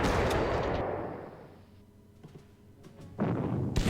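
Artillery fire in the Panzer Corps strategy game, a loud booming blast that decays into a rumbling tail, then a second heavy burst near the end.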